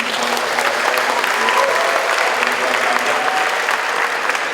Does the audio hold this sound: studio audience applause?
yes